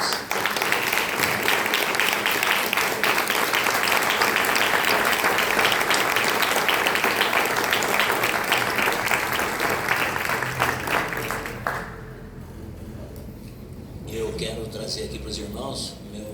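Church congregation applauding during a communion service, a loud sustained wave of clapping that fades after about twelve seconds, with a voice heard over it.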